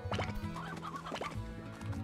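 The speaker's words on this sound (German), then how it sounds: "Das ist ein Huhn." Chicken clucking from the Slime Rancher video game, a series of short, close, repeated clucks and squawks over a steady game background, with no talk.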